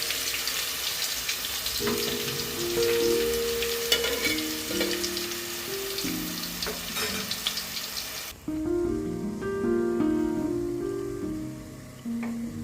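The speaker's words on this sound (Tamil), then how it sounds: "ஒரு பாத்திரத்தில் எண்ணெய், கடுகு, இஞ்சி பூண்டு கருவேப்பிலை போட்டு தாளிச்சிக்கோங்க." Ground paste sizzling in hot oil with mustard seeds, ginger garlic and curry leaves for a dry fish kulambu, a steady close crackling fry with stirring scrapes and a brief change partway through, no talk.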